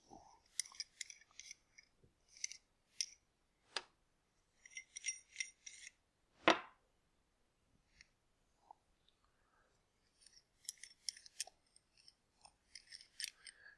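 Metal DSLR extension tube sections are twisted and unscrewed apart, giving quiet clusters of small close scraping clicks and ticks separated by pauses, with one duller knock in the middle.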